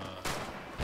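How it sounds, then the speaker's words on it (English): Gunfire in Red Orchestra 2, with two sharp shots close together, the first one abrupt and the second one louder and deeper, over a low background hum. "Who's shooting me?"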